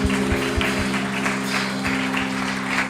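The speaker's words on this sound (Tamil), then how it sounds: "நல்ல கைத்தட்டுங்க இந்த வார்த்தைக்கு." Congregation applauding during a Tamil-language Sunday church service, a steady broadband patter of many hands with some louder individual claps, set over a sustained low hum.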